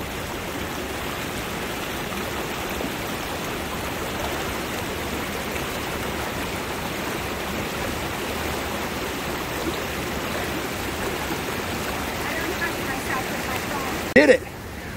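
A river flows near Casaroro Falls in Valencia, its steady broadband rush loud and constant throughout, with a brief knock near the end.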